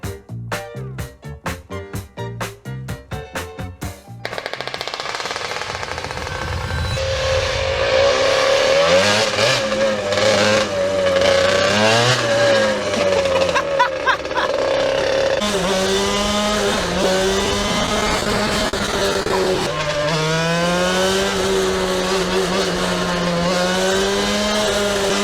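A two-stroke go-kart engine rattles through quick pull-start attempts, then catches and runs loud, its pitch climbing and falling through repeated revs up close.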